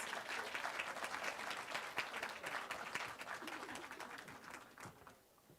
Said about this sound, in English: can we give them another large, rousing round of applause?